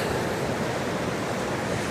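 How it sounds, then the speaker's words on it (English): The French Broad River rushes along in a broad, unbroken roar right alongside a walking path, loud and constant throughout. "But we're walking along the side of this river."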